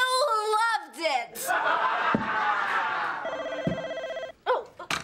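A telephone bell rings in repeated bursts amid a scuffle of overlapping voices and laughter in a comedy scene, the ring loud and close beneath the shouting.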